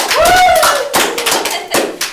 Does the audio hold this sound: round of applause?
yes